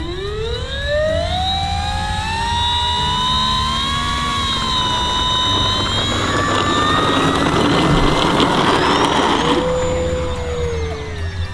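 A new FMS Cessna 182 RC model plane on its maiden flight, giving a loud, continuous electric motor whine that rises and shifts in pitch as the plane manoeuvres overhead, with no voices.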